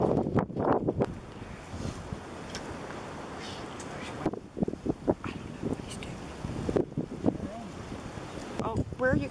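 Wind gusting around a hunting tree stand in deer country, a steady rushing roar buffeting the microphone with brief knocks and rustles, and no speech.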